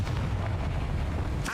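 The Confringo blast spell in Hogwarts Legacy bursts into a heavy rumbling explosion that fills the short moment with deep booming energy, ending in a brief crackle.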